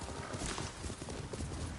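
A horse in the video game Ghost of Tsushima clip-clops along in a quick steady rhythm of hoofbeats, loud and continuous over a brief stretch with some voice faintly mixed in.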